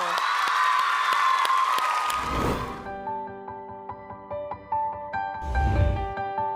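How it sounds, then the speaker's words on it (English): Audience applause for a girls' school team at a national science quiz semi-final in Singapore, a dense burst of clapping and cheering over the first couple of seconds that gives way to a music sting with brief swells. "A big round of applause for Raffles Girls School!"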